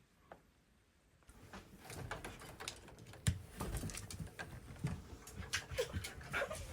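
A dog whines and whimpers in short bursts against busy background clatter and shuffling, with a few sharper knocks.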